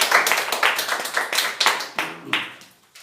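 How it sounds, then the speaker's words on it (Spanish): A church congregation claps in a fading burst of broadband hand claps over about three seconds, dense at first and then thinning into a few last slaps, with no clear talk over it. "Damos un fuerte aplauso al Señor."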